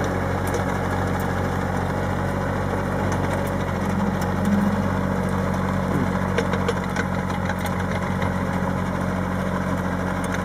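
A Massano micro tractor with a stone burier attachment runs steadily, its engine humming low and even while the rotor turns slowly, a continuous mechanical drone with faint metallic ticks.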